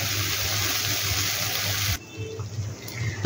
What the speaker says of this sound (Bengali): এবার এতে একটু গরম জল দিয়ে দিই